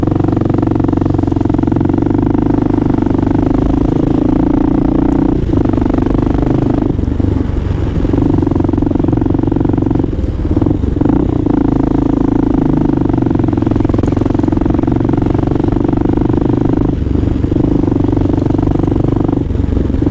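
A motorcycle rides through New York traffic in the Bronx, its loud, close engine droning steadily throughout with slight shifts in pitch and a few rattles, and no talking.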